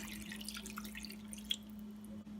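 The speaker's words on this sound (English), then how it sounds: "I'm gonna add 1 cup of water." A cup of water poured into a cooking pot for Jamaican-style brown stew chicken, giving a faint, steady trickling and dripping over a low background hum, with no talking.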